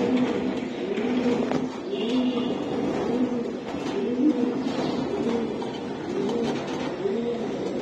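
Breeder racing pigeons coo continuously at close range in repeated soft, rolling calls, with faint background bustle and no voices.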